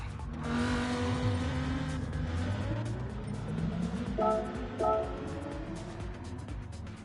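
A Ferrari races in the video game Gran Turismo 7, its engine droning steadily and loudly throughout with shifting pitch and a couple of brief tire-squeal bursts near the end.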